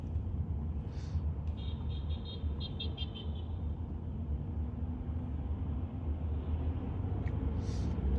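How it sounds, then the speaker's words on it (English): Road traffic rumbles past as a steady low drone of cars, with a few faint higher tones and chirps drifting over it and no voices heard. "that guy's going quick between cars"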